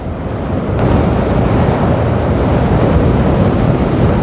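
Wind and surf at GMaya Beach Resort in Maasim, Sarangani roar in a loud, continuous broadband wash, swelling after the first second and holding steady, with gusts buffeting the microphone.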